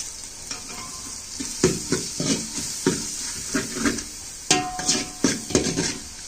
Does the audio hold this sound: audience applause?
no